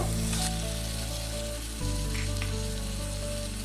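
Cut onions fry in a pan with a loud, continuous close-up sizzle, a brief dip midway as they are stirred or shifted, and no talking.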